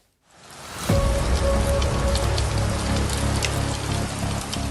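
Egg-sized hail in Stepanavan begins after a near-silent moment, then becomes a sudden, loud, dense pounding that continues steadily.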